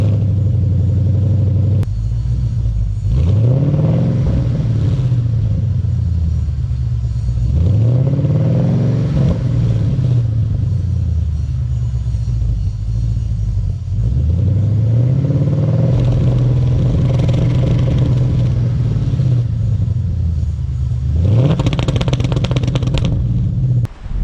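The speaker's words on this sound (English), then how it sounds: "I'll do a real easy rev up to the two-step, and you can hear how it cuts off slightly, and then I'll do a full throttle rev." A 2011 Ford Mustang GT V8 with an MSD two-step revs repeatedly. Each loud, rumbling climb hits the limiter and stutters at a steady hold before dropping back, ending with a harder full-throttle rev, all close and without talk.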